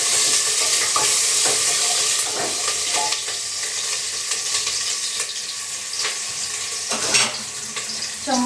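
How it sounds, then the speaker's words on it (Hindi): Onions sizzling steadily in a hot pan with cumin, a close, constant crackling hiss broken by scraping spoon strokes and a few sharp clinks. "फिर प्याज डाल दूँगी"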